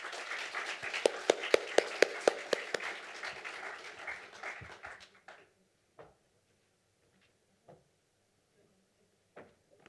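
Audience applause welcoming a distinguished scholar at a European affairs conference, a burst of loud clapping that dies away after about five seconds, followed by scattered faint knocks and shuffles in a quiet hall.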